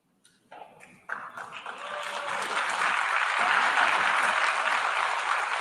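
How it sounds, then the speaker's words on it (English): Applause from delegates at the UN General Assembly starts with a few scattered claps, then swells into sustained, dense clapping from a large hall crowd. "Thunderous applause from every country."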